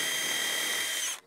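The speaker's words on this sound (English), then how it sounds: "pre-drill where my screw's gonna go" Power drill pre-drilling a screw hole in a wooden stair board, a steady high whine held for about a second before cutting off abruptly, close and loud with no talking.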